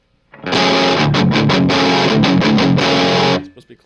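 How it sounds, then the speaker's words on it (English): Electric guitar through a Mooer Black Secret distortion pedal in vintage mode, a loud burst of gritty distorted chords strummed rhythmically for about three seconds, then cut off. "So I'm going to go back to vintage."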